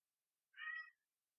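A single short cat meow, clear and close against a quiet background, lasting about half a second with no other sound around it.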